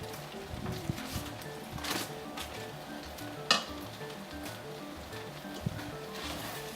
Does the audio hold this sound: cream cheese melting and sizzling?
yes